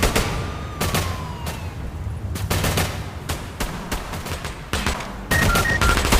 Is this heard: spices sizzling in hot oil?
no